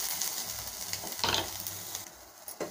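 Onions sauté in a pan with a steady soft sizzle, broken by a few scraping stirs of a spoon. The sound stays close and moderate in loudness.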